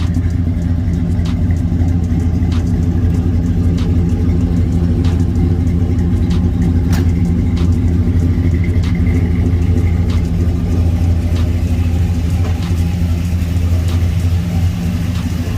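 A Chevy truck's LS 5.3 V8 with a Flowmaster exhaust idles with a deep, loud, steady rumble throughout, close up and continuous, with faint clicks over the engine drone.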